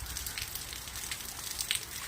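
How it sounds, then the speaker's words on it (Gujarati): Heavy monsoon rain pours steadily over farmland with cotton fields in a Gujarati village, forming a continuous soft hiss of drops with no speech. "વરસાદ બહુ આવે છે"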